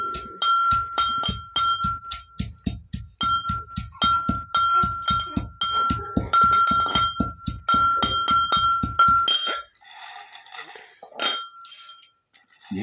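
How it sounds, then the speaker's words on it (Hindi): Spices being pounded in a metal mortar and pestle, a rapid run of sharp ringing clinks with a steady rhythm for about nine seconds, then a pause and a few scattered knocks. "फिर इन्हें आप हमदस्ते में इस तरह कूटें।"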